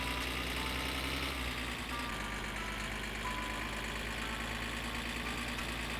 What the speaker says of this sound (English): every time I come down here I can hear vehicles revving